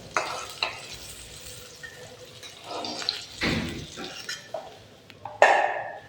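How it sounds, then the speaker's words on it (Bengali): Rohu fish pieces fry in oil with a soft, low sizzle, broken by a few sharper bursts, scrapes and clinks of a utensil turning and lifting the fish. "মাছ ভাজা হয়ে গেছে, লাল লাল করে ভেজে নিয়েছি"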